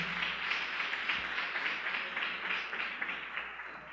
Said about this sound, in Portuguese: Pode aplaudir a palavra de Deus, tão bonita.